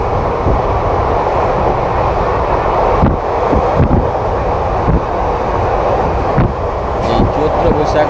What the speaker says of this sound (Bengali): এই মুহূর্তে আমাদের ট্রেন এই সাগরদিঘি স্টেশন ছেড়ে দিল